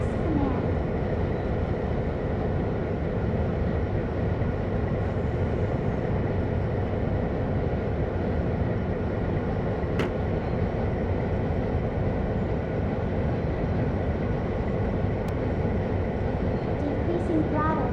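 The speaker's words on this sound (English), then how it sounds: "The train is starting to move again slowly" A train in a train-driving video game rolls slowly, giving a continuous, loud, even rumble that holds steady throughout with no pauses.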